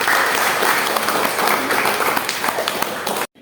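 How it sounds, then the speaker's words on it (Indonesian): Loud, dense applause fills an evening gathering of a parish event committee, a crowd clapping continuously for several seconds before it cuts off abruptly. "Tepuk tangan untuk Mbak Ben."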